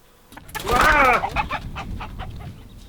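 Hens on a family homestead cluck near the microphone, a loud warbling call rising then tapering into scattered softer clucks and rustling.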